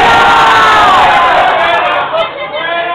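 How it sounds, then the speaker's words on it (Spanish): Loud crowd cheering and shouting at a Halloween costume contest in Duitama, Boyacá, children's voices mixed in, sustained for a few seconds before easing slightly near the end. "Aplausos por Shakira."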